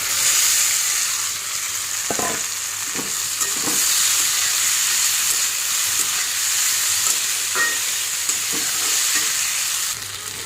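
Okra and chopped onion fry steadily in hot oil, a dense, continuous sizzle with occasional scrapes of a stirring spoon, close and loud throughout with no talk.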